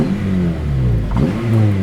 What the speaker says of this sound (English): that exhaust sounds really nice